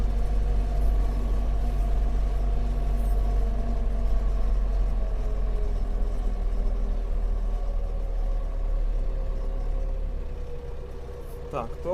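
A farm tractor pulling a new Strumok 500 fertilizer spreader drives between winter crop fields, its engine a steady, loud droning rumble throughout with a brief clatter near the end.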